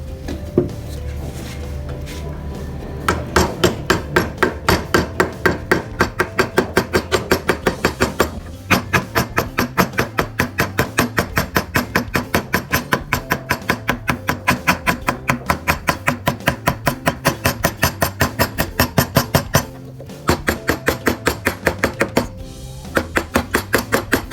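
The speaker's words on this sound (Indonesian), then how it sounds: "kita awali menggunakan pahat coret terlebih dahulu untuk memberi dasaran" A hammer drives a chisel into wood during carving, producing a long run of sharp, evenly spaced close knocks at a quick steady rhythm, with a couple of brief pauses.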